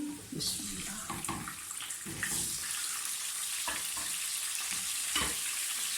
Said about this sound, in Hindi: अभी मैं डालूँगी फूल गोभी।